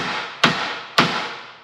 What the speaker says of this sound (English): I'll get on there with that sledgehammer.